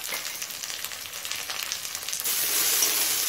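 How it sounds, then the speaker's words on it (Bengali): Green chillies, grated ginger and crushed garlic sauté with browned onion in a pan, a close continuous sizzle that swells louder and brighter partway through, with no voices. "এখন আদা রসুনের কাঁচা গন্ধ চলে যাওয়া পর্যন্ত কষিয়ে নেব"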